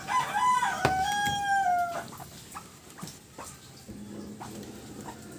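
Backyard chickens cluck and a rooster crows near the start, with a dog barking in places, birds calling intermittently at moderate volume before quieter scattered clucks toward the end.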